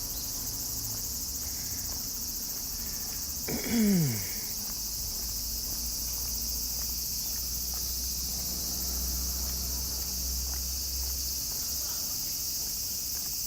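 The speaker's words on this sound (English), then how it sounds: "Back to the cicada sounds." Summer cicadas in Tokyo drone as a steady high buzz throughout, with a brief swooping engine or motorbike pass in the middle and low traffic rumble underneath.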